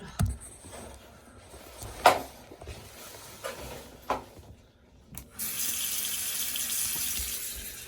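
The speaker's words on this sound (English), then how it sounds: "So go ahead and turn the water on." Bathroom sink faucet turned on, running water pouring steadily into the basin for the last few seconds after scattered handling knocks and clanks, fairly close.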